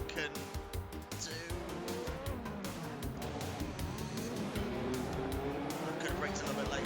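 A Lola Haas Ford race car revs and accelerates in a 1986 Miami Grand Prix racing game, its engine whining through rising gear changes at moderate volume under a speaking voice.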